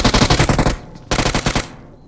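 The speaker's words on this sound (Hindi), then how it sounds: "गोली चला दी, गोली चला, गोली चला।" Rapid automatic gunfire from a firearm in the mobile battle-royale game PUBG Mobile (BGMI), two loud bursts of fast repeated shots separated by a short pause, with no talk over them.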